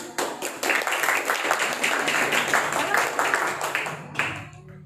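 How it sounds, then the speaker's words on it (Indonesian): An audience claps after a Marawis group's performance at a Maulid Nabi charity gathering, a lively burst of many hands that stops abruptly near the end, with some voices in the crowd. "Beri tepuk tangan."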